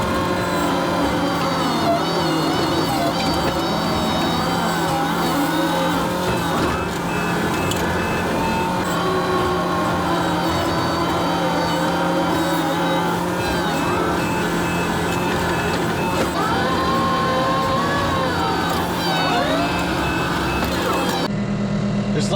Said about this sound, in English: Just like that, the second truck is here. He's backing down the other side